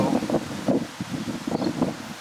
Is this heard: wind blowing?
yes